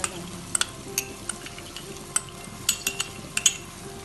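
Garlic ginger paste, two tablespoons of it, fries and gets stirred in a pan for a brinjal curry, with a steady low sizzle and sharp clinks of a spoon against the pan at irregular moments.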